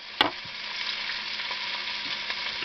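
Pork chops sizzle steadily in a hot pan, with a sharp clack near the start and a few soft stirring or utensil sounds over the continuous close frying hiss.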